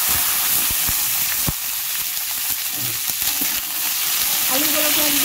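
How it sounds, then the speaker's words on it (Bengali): Potatoes frying in hot mustard oil with cumin and bay leaf give a continuous dense sizzle and crackle, steady and close throughout, with faint stirring clinks in the pan. "আলুগুলোকে একদম লাল লাল করে ভাজবো।"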